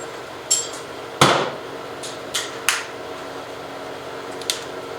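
Metal clanks and taps from a wrench while a Subaru BRZ engine is worked on, with one sharp loud strike and several lighter knocks spread irregularly over a steady background hum.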